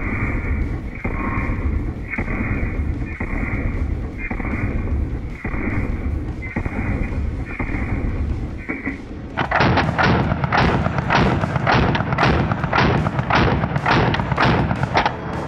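An M3A1 Grease Gun submachine gun fires .45 caliber rounds outdoors: a slow, evenly spaced series of heavy shots, then a faster, louder string of sharp bursts, with no talking.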